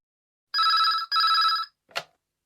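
A telephone rings twice in two sustained electronic bursts, followed by a short click as the receiver is picked up.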